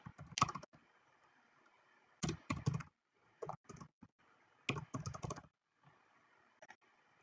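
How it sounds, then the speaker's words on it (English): Bursts of keystrokes on a computer keyboard entering a filename, short clustered clicks separated by gaps of quiet, close to the listener and moderately loud. "Now when I type purplebird2 in here"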